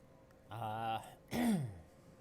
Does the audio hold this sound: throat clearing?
yes